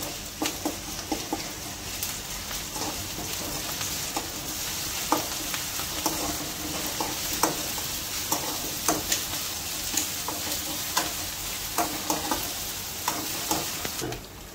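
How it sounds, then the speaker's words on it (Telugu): Ginger garlic paste frying in a pan for a goat blood fry while being stirred: a steady close sizzle punctuated by repeated sharp scrapes and clicks of the spoon, with no talking. "అల్లం కూడా పచ్చివాసన పోయేదాకా బాగా వేయించుకోవాలి."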